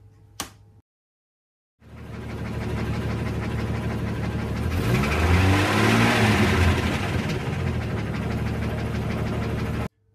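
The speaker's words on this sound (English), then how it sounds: "And a 500 horsepower engine." A 500-horsepower engine revs hard in a comedic toaster ad, a loud sustained roar with rising and falling pitch sweeps that runs for about eight seconds after a brief click and a pause of silence.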